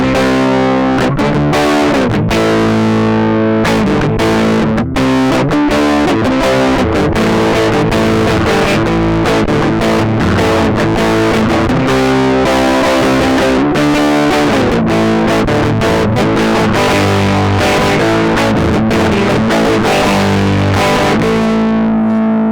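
Heavily distorted electric guitar plays chunky chords and riffs through a Fender 5E3 tube amp, loud and sustained, with no voices over it.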